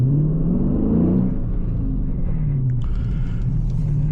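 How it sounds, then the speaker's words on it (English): A 2022 Dodge Challenger Scat Pack launches at full throttle, its engine roaring loudly up close with a deep, rising rumble that settles into a sustained, strained drone. "press the clutch and quickly apply full throttle"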